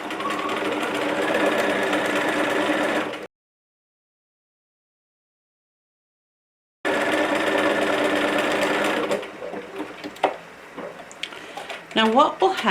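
Sewing machine zigzag stitching along a raw pinked fabric edge, a fast steady mechanical whirr for a few seconds, a silent pause, then another burst of stitching that slows into scattered clicks and handling sounds.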